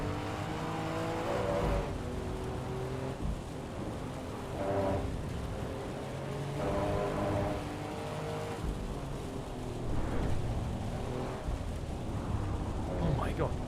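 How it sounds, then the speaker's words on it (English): A race car circling Mount Panorama at night in heavy rain in Assetto Corsa EVO, its engine droning and surging in repeated waves over a steady wash of rain noise, loud and continuous throughout. "Rain around Mount Panorama on the mountain at night."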